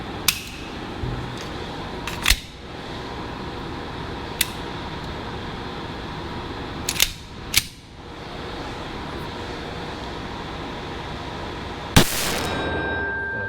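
A Beretta 92FS 9mm pistol fires a handful of sharp, irregularly spaced shots, each a brief crack over a constant background hum, with a longer pause before the last.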